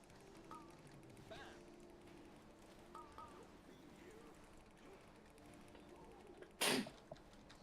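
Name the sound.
sneeze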